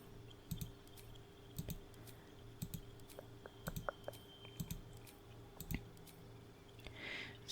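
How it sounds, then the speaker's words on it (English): Quick bursts of mouse clicks while playing Baldur's Gate 3 on a computer, clustered in short rapid runs with soft keyboard taps between them, close and quiet, with no talking. "Let me just activate my fast clicking."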